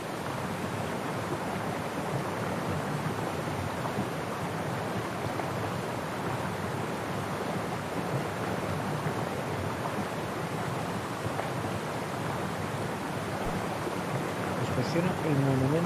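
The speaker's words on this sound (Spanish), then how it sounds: "Una cascada." Steady broadband rush of a waterfall in the adventure game Syberia: The World Before, continuous and even in level throughout, with a brief faint tonal blip near the end.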